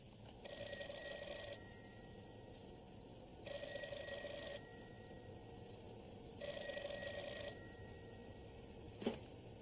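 An old telephone bell rings in three evenly spaced bursts on a television show set, each about a second long with brief pauses between, followed by a short clunk as the handset is lifted; no talking.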